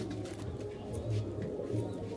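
Rare pigeons cooing softly in a loft, low murmuring coos overlapping in a steady, fairly faint background.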